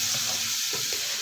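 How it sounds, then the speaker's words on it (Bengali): Warm water poured into a pan of frying bottle gourd curry sets off a bright, steady sizzle and hiss, close by, with faint stirring bubbles beneath and no voices. "উষ্ণ গরম জল দিয়ে ভালো করে সমস্ত কিছুর সাথে নাড়াচাড়া করে নেব"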